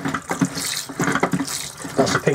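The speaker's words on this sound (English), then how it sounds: "then you flush it by doing this" A cassette toilet in a 1997 Swift Classic touring caravan flushes with bursts of running water, close and fairly loud, coming in several pulses with brief gaps.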